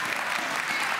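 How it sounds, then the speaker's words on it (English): Applause for a church worship team during a sermon service, a steady, dense wash of many hands clapping at moderate volume throughout, without voices on top. "Some applause for your amazing worship team."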